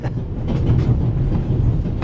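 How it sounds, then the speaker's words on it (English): A video-game train rolls along its tracks with a steady, close, low rumble and faint rhythmic clatter, continuous throughout and without speech. "The famous Inspector Legrand is on this train"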